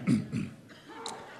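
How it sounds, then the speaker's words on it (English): A preacher clearing his throat, giving two short rough guttural rasps followed by a softer cough-like sound, close and fairly loud, with no other sound around it. "Clear my throat"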